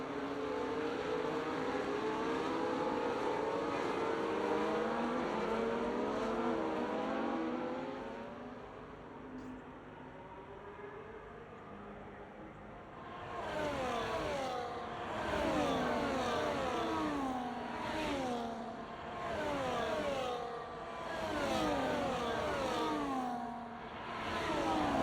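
McLaren race car engines in a racing video game, several cars revving and shifting through gears in a steady stream of overlapping engine whine, loud and continuous with rising and falling pitch sweeps.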